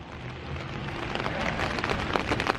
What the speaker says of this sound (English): it's actually pouring down raining